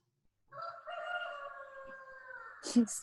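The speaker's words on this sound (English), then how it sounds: "Rooster is crowing." A single rooster crows in one drawn-out call at a moderate distance, followed by a brief burst of noise at the end.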